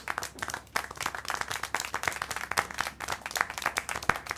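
Steady applause from a small group in the video game Syberia: The World Before, with dense, continuous clapping throughout and no voices over it.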